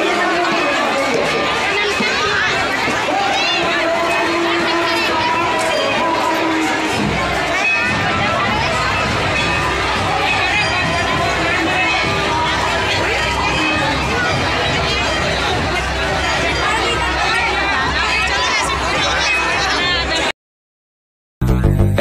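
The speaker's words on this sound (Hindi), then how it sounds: "यहाँ पे देखिए कितनी भीड़ है मंदिर के बाहर, घुसने का मौका नहीं।" A large fair crowd outside a temple keeps up a constant loud hubbub of overlapping chatter, with music and a person talking over it, cutting briefly to silence near the end.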